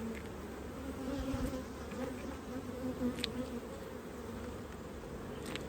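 Honey bees from a strong colony buzz in a steady, faint swarm around an open hive while honey supers and frames are fitted, a continuous drone with no talking.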